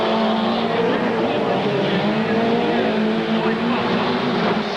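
Grand National Sport Truck racers roar into the first turn at a 1994 race in Salt Lake City, Utah, a dense, steady wash of engine noise from the pack with a commentator talking over it.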